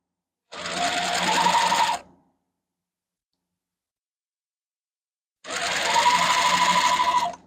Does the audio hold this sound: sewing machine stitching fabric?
yes